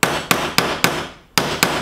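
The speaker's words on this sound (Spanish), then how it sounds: "seguir martillando" A hammer strikes a cold rivet to flatten its head, six sharp metallic blows in a steady rhythm with one brief pause, each ringing briefly, close and loud.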